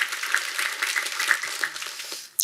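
Steady audience applause at a talk show lecture, a continuous wash of many hands clapping at moderate distance, fairly even and then cutting off abruptly at the end.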